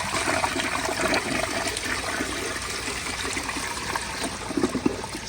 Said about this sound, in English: let me give you all a flush and you can see what I mean